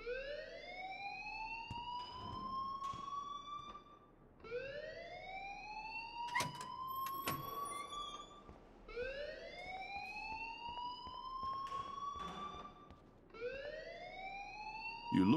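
A fire alarm goes off in the video game Life Is Strange. It gives a rising electronic wail that sweeps upward and repeats about four times in steady cycles, with a few sharp clicks mixed in, at a fairly low level.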